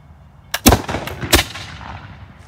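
Black-powder volley from Revolutionary War reenactors firing .50 caliber Pennsylvania-pattern rifles and muskets at the Battle of Great Bridge reenactment: two loud, ragged clusters of shots about a second apart, each with a rolling tail fading outdoors.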